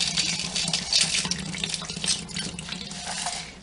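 Water splashes steadily as it pours from the barrel of a Harbor Freight rotary rock tumbler into a small sifter, a continuous nearby trickle of moderate loudness.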